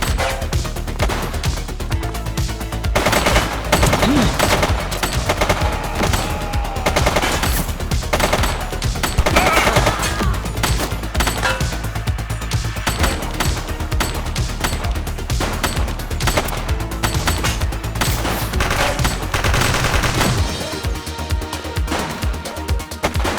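Loud, relentless gunshots in The Precinct, rapid cracks packed together for over twenty seconds with little pause before tapering off at the end.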